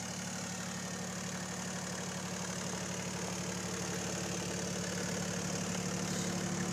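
A Bombardier MPV-20 tractor engine runs steadily at idle, with a loud, even low-pitched drone and a faint rhythmic knock. No one speaks.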